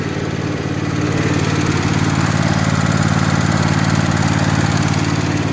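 Small red tractor with a petrol engine idling while it warms up, a loud, steady, close rumbling drone that continues without pause and with no talking.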